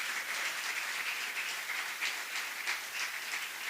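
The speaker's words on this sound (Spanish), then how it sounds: "Denle fuerte ese aplauso al Señor." A church congregation gives a sustained, even round of applause during an evangelistic sermon, a soft continuous roar of many hands clapping with no voices over it.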